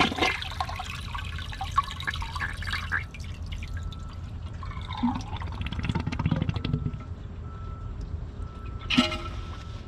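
A home toilet flushing thick tissue paper on its ninth attempt against a near clog, with a steady rush of water and gurgling drain noise throughout and a brief sharper splash near the end.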